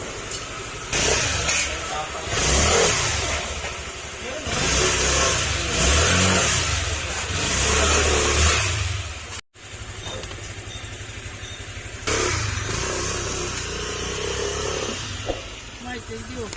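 A loud, noisy engine that has lost power revs up in several sustained bursts separated by brief drops, with voices over parts of it.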